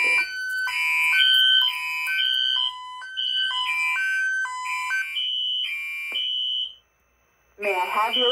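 A Silent Knight 6808 fire alarm system, set off through an Edwards 278B1120 device, sounds a loud repeating electronic tone pattern with stepped pitches, breaks off briefly, then starts again.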